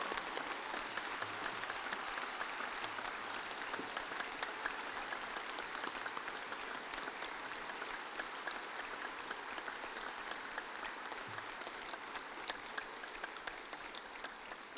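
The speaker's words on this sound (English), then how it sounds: "Big round of applause for all our LINC graduates today, and indeed the LINC team." Sustained applause for graduates at a Mary I university graduation ceremony, a dense, steady wash of many hands clapping throughout, moderately loud and even with no talk over it.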